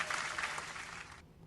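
Brief burst of hands clapping on a live talk show, a dense flurry of claps lasting just over a second before cutting off.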